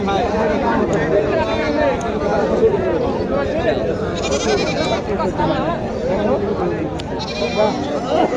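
Goats bleat repeatedly amid a busy, crowded goat market at Kaptan Bazar in Dhaka, with several people talking over and around the animal calls.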